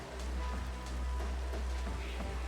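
Steady rain patters across a surface in a video game, a dense even hiss over a constant low hum, with no voices.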